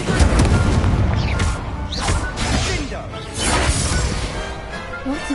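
Incendio fire spell cast during combat in Hogwarts Legacy on PS5, a loud continuous stretch of whooshing blasts and booming impacts, with swells and bursts throughout and no clear speech.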